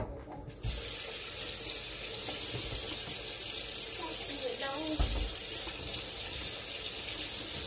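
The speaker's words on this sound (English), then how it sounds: "Go ahead and wash my hands here." A kitchen tap runs steadily while hands are washed under it, starting with a sudden gush and then a continuous close hiss of flowing water with small splashes from the sink.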